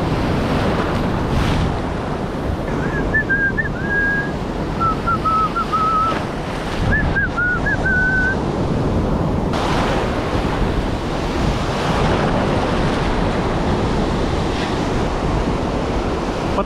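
Strong sea waves pound the shore during stormy weather, a loud continuous wash of surf and wind with a few faint whistled notes rising briefly over the roar.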